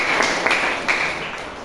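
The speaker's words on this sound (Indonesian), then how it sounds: "Yang percaya tepuk tangan yang keras" Church congregation clapping, a short burst of sustained applause with a few sharper claps standing out, fading slightly across the moment.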